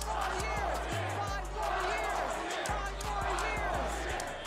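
A dense crowd at the Toronto Raptors championship parade chants for Kawhi Leonard, a continuous roaring mass of voices with rhythmic swells, heard loud and near.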